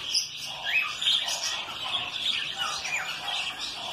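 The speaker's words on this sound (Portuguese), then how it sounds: "ele tá mostrando aqui também um casal jovem de Catarina" A young pair of lineolated parakeets at an exotic bird breeding aviary chirps continuously in a busy flurry of high, overlapping tweets and short calls. The calls sound close and moderately loud, with no talk.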